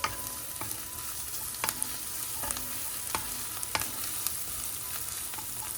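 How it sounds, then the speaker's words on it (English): Demi-glace sauce stirred in a hot pan, a continuous sizzle and frying hiss with a spoon scraping and tapping the pan in irregular strokes, close and fairly loud with no talking. "So we'll just keep stirring it, and we'll keep checking on it"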